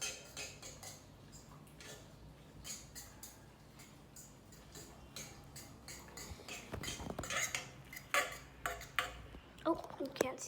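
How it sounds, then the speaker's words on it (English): Mac and cheese with added parmesan is stirred in a pot on the stove, with a run of soft clicks and scrapes from the utensil that grow louder toward the end. "Now you want to like stir it."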